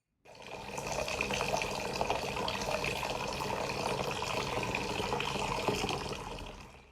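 Scottish tap water runs and splashes as hands play in it, a steady gushing flow with small irregular splashes that starts abruptly and holds near and fairly loud, with no talk.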